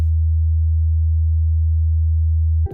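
An 80 Hz pure sine test tone plays steadily and loudly for most of the span, alone, cutting off just before the end as a voice starts.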